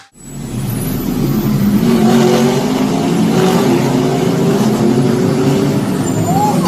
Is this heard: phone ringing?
no